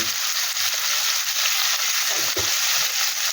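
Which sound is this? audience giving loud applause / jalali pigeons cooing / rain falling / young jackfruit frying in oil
young jackfruit frying in oil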